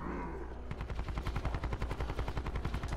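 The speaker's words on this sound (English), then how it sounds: "you hear them shooting?" Rapid bursts of automatic gunfire in Call of Duty Blackout on the Alcatraz map, a dense rattling stream of shots at moderate distance with no talking.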